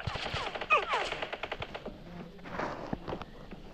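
Bursts of automatic rifle fire crackle in the battle royale video game PUBG, a rapid volley early on followed by scattered quieter shots at moderate distance, with no talking.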